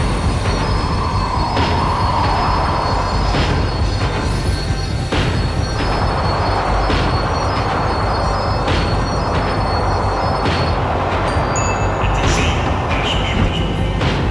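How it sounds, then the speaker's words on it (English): A tram slowing down in the video game Max Payne 3, a steady loud rumble of rail wheels with high screeching squeal and faint rhythmic clacks, continuous throughout. "The tram was slowing down, and I'd only just gotten on board."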